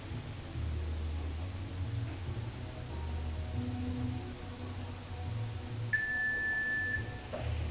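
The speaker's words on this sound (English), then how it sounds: "so when you hear the beep" A single steady electronic workout-timer beep sounds near the end of a stretching session, clear and sustained for about a second over a low, constant hum.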